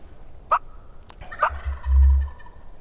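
Wild turkey gobbler in spring calling twice, with loud rattling gobbles at about half a second and a second and a half, followed by a deep booming drum; moderately close and with no talk over it.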